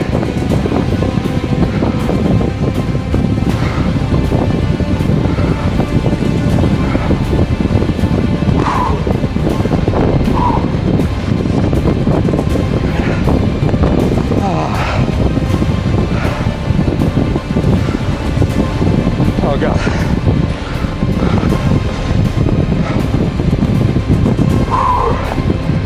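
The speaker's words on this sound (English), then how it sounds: "Oh, wind is vicious." Strong, gusting wind buffets the microphone along the coast of Fuerteventura in the Canary Islands, a loud, continuous roar with surf-like rushes and no let-up across the whole stretch.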